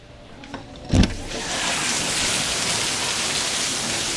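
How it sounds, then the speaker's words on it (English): Hard tropical-storm rain from Hurricane Hermine builds after a brief knock into a loud, continuous broadband roar that stays steady to the end. "Probably the hardest rain I've seen all summer right now."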